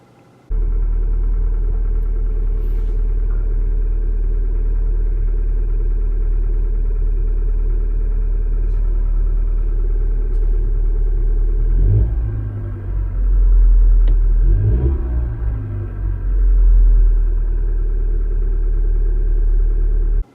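A 2018 Kia Soul engine idles steadily at operating temperature with a deep, even rumble, close by, with a couple of brief swells in the low hum partway through.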